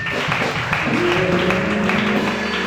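Church congregation at a Gabonese worship service applauding and cheering for Jesus, a steady dense wash of clapping and voices with music tones running underneath throughout.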